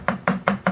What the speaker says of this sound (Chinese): 啲蒜就咁样用刀背将佢剁成蒜粒就得噶啦